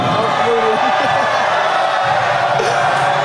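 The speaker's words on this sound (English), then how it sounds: "Crowd gets loud for Robinson." Crowd at a boys' high school basketball game swelling in noise as a player steps to the free-throw line, a dense roar of voices with cheering and whoops under a commentator's talk.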